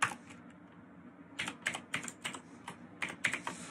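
Code being typed on a computer keyboard, scattered quick key clicks in short bursts after a quiet pause, close and fairly soft.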